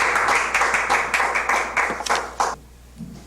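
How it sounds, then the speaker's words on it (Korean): Audience applause in a small indoor gathering, a steady patter of clapping hands that continues for a couple of seconds and then stops abruptly. "박수."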